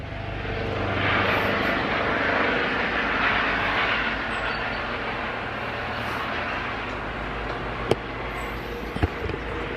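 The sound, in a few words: aircraft flying overhead, airplane or helicopter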